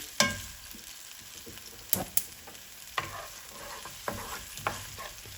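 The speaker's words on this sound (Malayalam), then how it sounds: "നമുക്ക് അരിഞ്ഞ് വെച്ചിരിക്കുന്ന സവാള ചേർത്ത് കൊടുക്കുക." Chopped medium onion frying in olive oil in a pan, a steady low sizzle broken by several sharp clinks and scrapes of stirring, close and alone without any voices.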